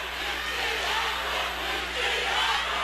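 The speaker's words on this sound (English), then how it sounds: "So one thing that's done is got the crowd back in this game." A crowd at a high school basketball game in a gym roars loudly and steadily, a dense wash of cheering and shouting that swells slightly without letting up, with no distinct single voice on top.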